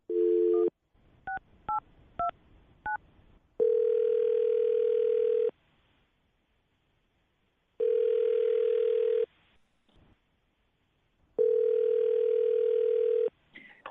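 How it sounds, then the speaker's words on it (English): Telephone call being placed: several short DTMF keypad beeps, then three long, evenly spaced ringback tones with silences between, clear and close with no talking. "I will dial her phone number right now."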